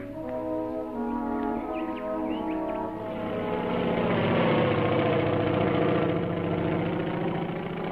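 Engine of an Auster aircraft flying in supplies to an airstrip during the Bougainville campaign, a steady droning tone that swells slightly louder toward the end, no voices.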